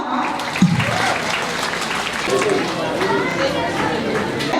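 An audience at a high school anniversary celebration claps steadily in a hall, dense and fairly loud, while a voice talks over the applause.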